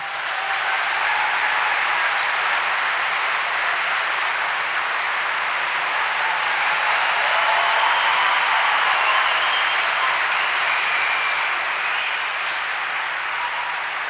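Sustained audience applause fills a film festival opening ceremony in Rotterdam, steady and dense throughout with no voices over it, swelling slightly in the middle.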